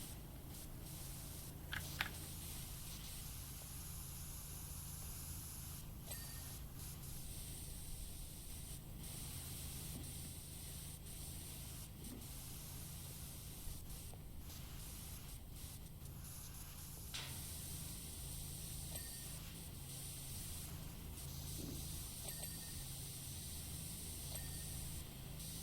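Steady pressure washer spray in the video game PowerWash Simulator, a continuous hissing jet running throughout with a few faint clicks and pings over it.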